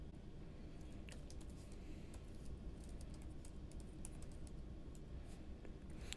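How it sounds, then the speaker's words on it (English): Quiet, rapid clicks of keys on a computer keyboard as a password is entered on an Apple computer, irregular taps in quick bursts over a faint background hum. "And type in the password."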